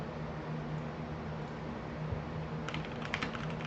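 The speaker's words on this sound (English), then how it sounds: "I'm just typing in Silver Scrapes to spot" Quick keyboard typing at a computer, a short run of light clicks in the last second over a steady background hum from a gaming setup.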